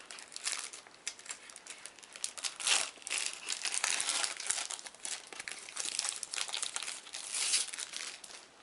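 Plastic and paper packaging of a World of Warcraft trading card deck being opened, with continuous close crinkling and rustling in irregular bursts.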